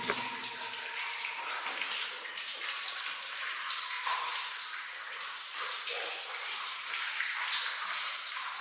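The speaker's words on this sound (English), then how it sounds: "You see the water is shunted off to the side here, and is flowing out" Water flows steadily out through a drainage channel, a continuous broad rushing and splashing that stays at an even, fairly loud level throughout.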